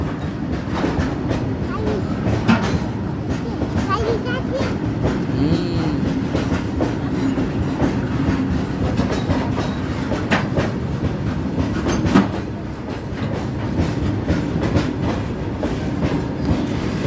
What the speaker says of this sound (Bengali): যাচ্ছে যাচ্ছে ট্রেন যাচ্ছে তো